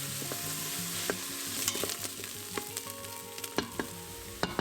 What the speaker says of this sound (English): Going to saute my onions in olive oil.